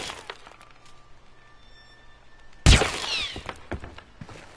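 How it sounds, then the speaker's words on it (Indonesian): A burst of gunfire at about the midpoint, striking two golden sea snail ornaments in a video game, with a sharp loud crack and a shattering tail after quieter ambience with faint tones. "Terus kita tembak deh tuh kedua pajangan keong laut itu."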